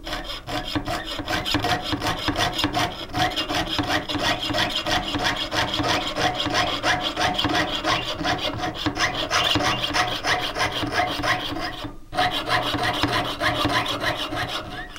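A jeweler's hand saw frame cuts through sheet metal in fast, even back-and-forth rasping strokes, loud and close, with one brief pause near the end before the sawing resumes.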